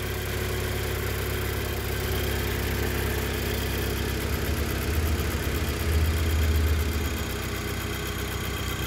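A 2.0 TFSI car engine idling steadily after a camshaft timing fix, a continuous even hum with a slight rise in its low rumble toward the end, with no talk.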